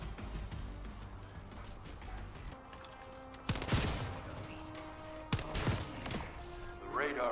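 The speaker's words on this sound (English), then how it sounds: "Just set off a few explosives." Explosives detonating in The First Descendant video game, two sharp, loud blasts a couple of seconds apart with crackling debris and rumbling aftermath over a game music bed.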